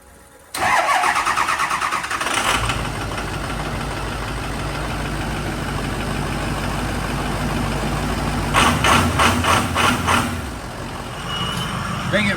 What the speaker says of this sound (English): Honestly, starts up better than most 6-liters.